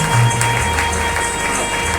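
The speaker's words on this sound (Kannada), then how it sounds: "ಕೈ ಚಪ್ಪಾಳೆಗಳ ಮೂಲಕ ಸನ್ಮಾನಿಯನ್ನು ಗೌರವಿಸೋಣ" Audience applause honouring a teacher at an education trust's award ceremony: a steady, dense wash of clapping from a crowd that continues throughout.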